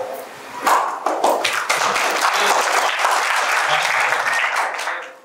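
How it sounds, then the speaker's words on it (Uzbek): Audience applause in a hall at a talk by the author of "Savdogarlar ustozi", a dense wash of many hands clapping that swells quickly, holds steady for several seconds, then tapers off. "olqishga shoshmang"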